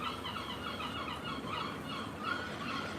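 Seagulls call repeatedly in a steady, overlapping chorus at moderate volume, with no voices over them.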